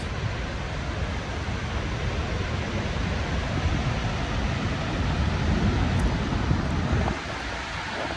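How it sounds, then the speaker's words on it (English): Thundering roar of a massive waterfall, Daytime Falls in Canada, a dense, steady broadband rush that holds without pause and fills the whole scene at close range. "this is the waterfall of all waterfalls"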